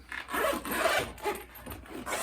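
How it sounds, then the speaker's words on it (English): A zipper slides along an upholstered cushion cover, a few short rasping pulls with scraping fabric rubs in between, close and fairly quiet. "just have to find our zipper"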